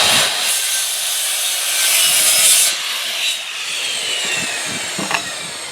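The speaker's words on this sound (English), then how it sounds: "The saw doesn't make it all the way through." A power saw cuts steadily through a wooden mailbox post, a loud, close, continuous rasping whine that shifts in pitch partway through as the blade binds and then eases, with no voices.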